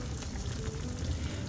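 Pork adobo simmering and frying gently in soy sauce over low heat, a soft steady sizzle and bubble, faint and close.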